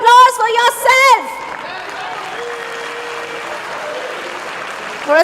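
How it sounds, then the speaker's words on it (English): A seated conference audience at a valuation summit applauds in a steady, even patter after a burst of loud voices at the start, the clapping continuing on its own until a voice cuts in at the end. "A big round of applause for yourself."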